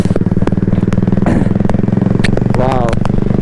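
A loud motorcycle engine rumbles close by with a throbbing, pulsing exhaust note, and a voice briefly speaks over it.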